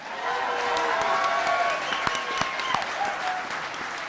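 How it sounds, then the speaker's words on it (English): A crowd applauds steadily, many hands clapping in a dense, sustained wash that holds level throughout. "Thanks for all the applause, folks."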